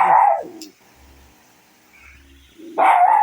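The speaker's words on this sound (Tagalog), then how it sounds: "Pag may nakikita, kumakahol, may nakikita bulto yan." A dog barks twice, loud and close, with a short quiet gap between the two barks.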